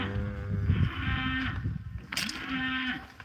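Gentle farm cows mooing nearby, two long, loud lowing calls separated by rustling and a brief sharp clank, with no talking.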